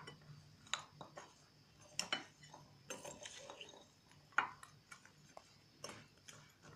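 A container of sweet-sour spiced date pickle, khajur achaar, is shaken to mix, giving light irregular ticking and clinking knocks spread across the span, fairly faint and close, with no voices.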